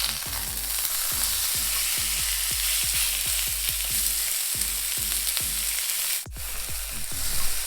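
Chicken breast sizzles in a hot pan for grilled chicken, a steady frying hiss broken by rapid, rhythmic crackles and pops. No one talks over it.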